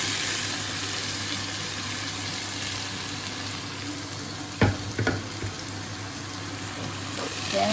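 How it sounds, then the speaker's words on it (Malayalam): Chunks of yam (chena) fry with onion in a pan for a stir fry, giving a steady close sizzle with a couple of brief clanks of a stirring spoon. "ചേന ചേർത്ത് നന്നായി ഫ്രൈ ചെയ്യാം."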